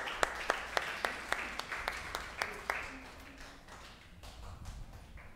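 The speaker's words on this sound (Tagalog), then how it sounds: "Palakpakan natin si Jesus, come on." A church congregation during a Sunday service claps together in a steady rhythmic beat of about a dozen sharp claps, then shifts into looser sound with voices in the latter part.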